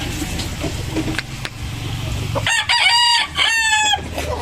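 A Gilmore Hatch gamefowl rooster clucks softly amid background rumble, then lets out a loud, close, drawn-out crow that rises and falls over its last couple of seconds.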